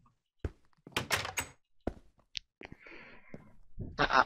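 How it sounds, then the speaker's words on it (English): A wooden door in the video game Minecraft opens and closes again and again, each move a sharp, hollow thunk separated by brief pauses, with quiet voices between them. "This door is really denying me."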